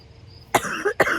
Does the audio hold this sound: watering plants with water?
no